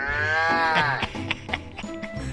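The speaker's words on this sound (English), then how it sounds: "The cow says..." A cow moos once in a long, drawn-out call that bends in pitch, followed by softer shuffling and farmyard noises at close range.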